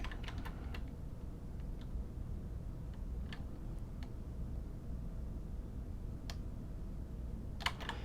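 Typing on a computer keyboard during a hands-on coding session: sparse, quiet, irregular key clicks over a low steady room hum, with a short quick burst of taps near the end.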